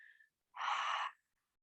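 A single forceful breath exhaled sharply through the mouth, a half-second breathy rush with a faint whistle-like tone just before it.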